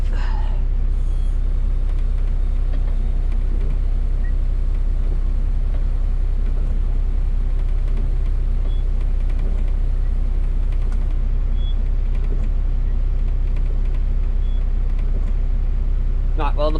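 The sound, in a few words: injection pump running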